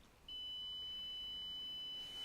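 An oven beeping, one long, steady, high electronic tone that sounds close and plain for about two seconds, with no talking over it.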